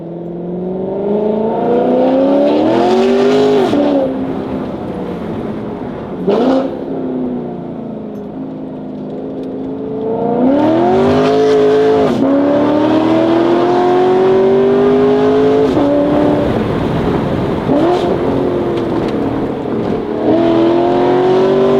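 A Corvette engine revs up and holds at a steady speed without the transmission downshifting into first, the sweeping engine tones rising, holding and falling in several loud close bursts with no talk.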